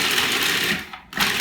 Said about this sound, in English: bear with me on this loud noise of my food processor